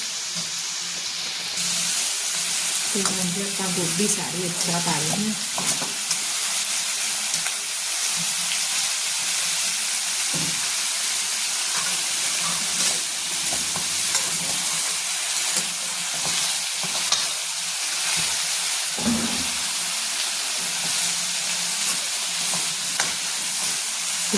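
Mixed vegetables fry in a pan with a continuous sizzle and hiss, while a spoon stirs and scrapes now and then, close and steady throughout with no speech.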